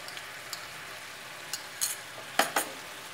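Coconut and dates being stirred in a pan for a rock-sugar date laddu, heard as quiet, scattered scraping and soft clinks of a spoon against the pan with a faint sizzle, and no voices.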